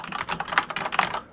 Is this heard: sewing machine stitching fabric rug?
no